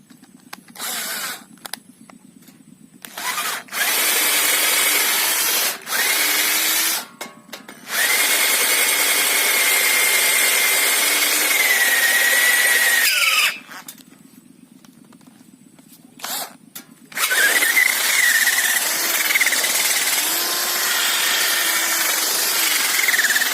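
A power drill whirs loudly in repeated long bursts, stopping and starting several times as a 10–12 mm bit bites into a steel frame.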